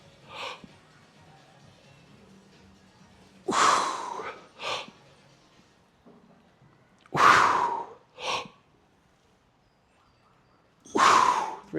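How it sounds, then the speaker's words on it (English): Sharp, heavy breaths in and out before a set of back squats, three loud clustered bursts of inhaling and exhaling spaced several seconds apart, close by, with near silence between them. "Big breath in."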